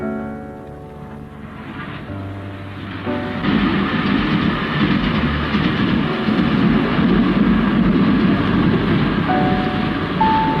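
A steam train runs along a railway track in a 1939 film, a rumbling, rhythmic rolling of wheels that swells in loudness partway through and continues as a dense, steady clatter without speech.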